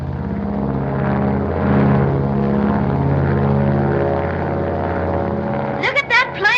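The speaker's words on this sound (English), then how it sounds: "Look at that plane climb." A radio-controlled propeller airplane drones steadily as it climbs, a loud continuous engine hum running throughout, with a brief voice breaking in near the end.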